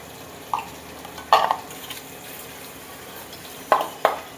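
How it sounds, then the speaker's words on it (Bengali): Duck eggs seasoned with salt and turmeric frying in a pan, a faint sizzle under a few sharp clinks and scrapes from a utensil, no voices. "ডিমগুলো ভেজে নেব ডিমগুলো আমি ভেজে নিচ্ছি"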